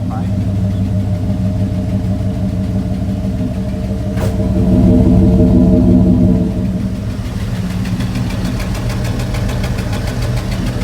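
An American truck with a new exhaust rumbles loud and close at a heavy, knocking idle, swelling briefly in a rev before settling back, with people talking over it.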